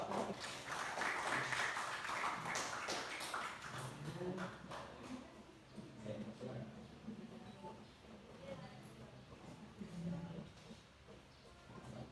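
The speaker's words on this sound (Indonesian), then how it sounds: "Tepuk tangan buat kelompok 2." A classroom audience claps for a presenting group. The dense applause is loudest at the start, then thins into scattered claps, with talk and murmuring underneath as it fades.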